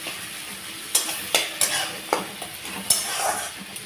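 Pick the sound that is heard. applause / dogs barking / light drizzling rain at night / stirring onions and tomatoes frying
stirring onions and tomatoes frying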